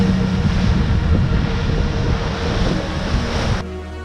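A Solitaire du Figaro racing sailboat surfing down ocean waves en route to the Fastnet delivers a loud, continuous rush of water and wind buffeting the microphone, then cuts abruptly to a quieter hiss near the end.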